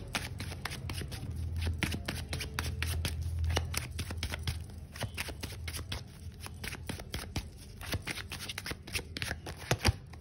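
Tarot cards being shuffled by hand, a dense run of quick crisp riffling snaps and flutters close up, continuing steadily for about ten seconds with a sharper burst near the end, no voices.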